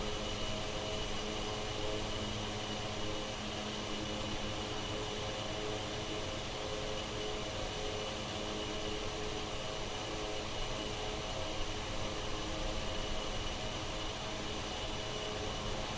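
ATR 72 turboprop engine noise in Microsoft Flight Simulator 2024: a steady, even drone with a faint whine, unchanging and continuous, with no talk.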